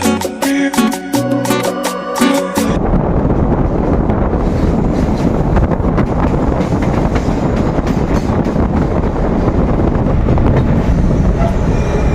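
A passenger train running toward Purulia Junction, heard from on board as a loud, continuous rumble with rattling wheels and buffeting wind noise after a brief opening of other sound, steady throughout.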